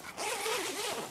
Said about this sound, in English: Just unhook the elastic tension strap and simply zip the panel